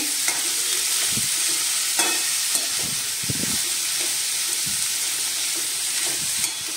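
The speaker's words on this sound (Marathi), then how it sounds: "तर आपण आता हे पण चांगलं तेलामध्ये मिक्स करून घेऊया" Ingredients stirred through hot oil in a pan, a steady broadband sizzle with scattered scraping knocks of a spoon, close and continuous with no voices.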